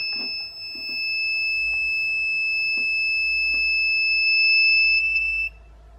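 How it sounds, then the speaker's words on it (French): A buzzer on an LM35 and LM324 temperature alarm circuit sounds a steady high electronic tone for about five seconds, then cuts off abruptly, with faint handling clicks in the background. "Et voilà, l'alarme s'est activée."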